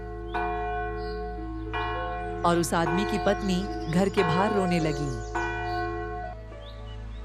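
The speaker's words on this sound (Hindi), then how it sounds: "गांव में फिर से घंटा बजने की आवाज आई" A village bell rings in a cartoon horror story, its long, sustained tones holding steady throughout while a narrator speaks over them.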